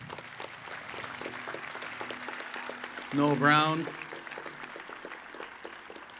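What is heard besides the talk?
round of applause for artist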